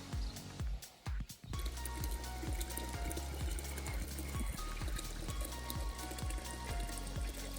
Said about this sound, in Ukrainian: Бачите, так набираю воду